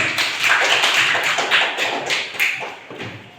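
Classroom applause for a student group, a dense, steady patter of many hands clapping together for about three seconds, fairly loud and close with no talk over it.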